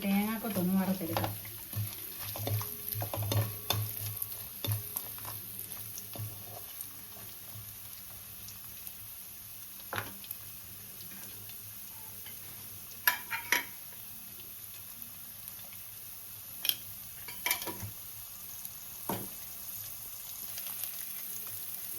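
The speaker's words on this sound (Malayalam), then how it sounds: "ആദ്യം നമുക്ക് തേങ്ങാക്കൊത്തൊന്ന് വറുത്തെടുക്കാം." Coconut pieces frying in a pan for a beef fry, soft sizzling under intermittent scrapes and clinks of a spoon stirring against the pan, with occasional sharper knocks; a voice speaks near the start.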